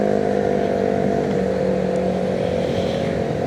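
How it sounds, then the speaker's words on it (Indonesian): A motorcycle with a loud aftermarket exhaust roars past on a city street. Its engine drone is strong and steady, with a rough, buzzing tone and no talking over it. "Kencang sekali knalpotnya."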